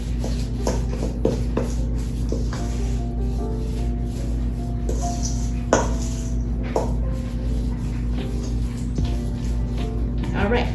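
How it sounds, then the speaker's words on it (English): A spoon scrapes and stirs oatmeal cookie dough around the sides of a bowl after liquid ingredients go in, producing soft intermittent clicks and scrapes over a steady background hum while a person talks throughout. "Make sure you get all the good bits from the sides of the bowls."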